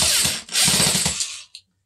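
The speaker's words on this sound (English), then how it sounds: "I'm just going to mount it to it. And I'm using self-tapping screws." A power drill drives self-tapping screws into a board while a rock tumbler is being built, giving two close, loud whirring bursts separated by a short break, then a brief click before silence.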